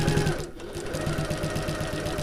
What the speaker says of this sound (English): And I'm going to back stitch at the bottom.